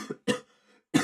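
A person coughs three times in quick, harsh bursts at close range, with short pauses between them, during a live basketball play-by-play commentary for Notre Dame versus North Carolina.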